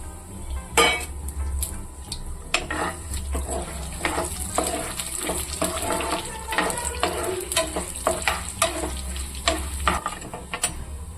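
Chana dal and urad dal crackle and sizzle in hot oil with cumin, with a steady hiss broken by frequent clinks and scrapes of a spoon stirring the pan.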